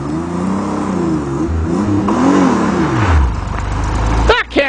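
A Pontiac Fiero V6 car engine drives and revs with rising and falling pitch as gears change, loud and close, then drops to a low idle rumble near the end with a voice speaking briefly.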